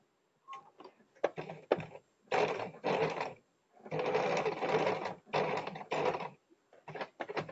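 A sewing machine stitches a straight line along a blouse strip in several close bursts of rapid mechanical whirring, separated by short pauses.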